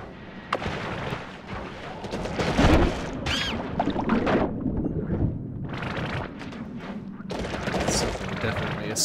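An enemy in the video game Noita fires at a rat, producing a scattered series of sharp shots and booming blasts, some near and loud, others fainter, amid crackling game effects.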